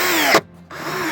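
A power drill drives screws into angle aluminum trim during a door trim install, a close, loud steady whir that cuts out briefly and then starts again.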